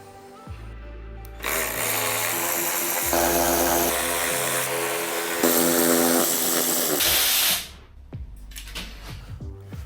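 A compact power tool winds long airbox bolts out of a Kawasaki ZX9R motorcycle, whirring loud and close in two or three bursts with pitch shifts, then spinning down.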